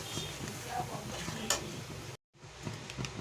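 Chicken chaap cooks on a low flame in a pan, giving a soft sizzle with occasional stirring scrapes and light utensil clicks, broken by a brief silent gap partway through.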